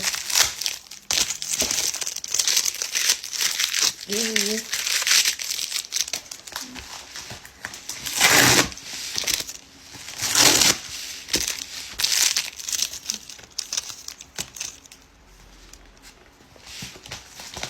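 A taped package wrapped in black bubble wrap is pulled open up close, giving loud continuous crinkling and crumpling with sharp tearing bursts in irregular bursts before it eases off toward the end.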